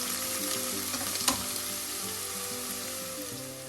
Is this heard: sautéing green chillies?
yes